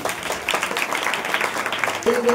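Applause from a crowd at a religious discourse, a dense patter of clapping at moderate distance, with a voice speaking over it.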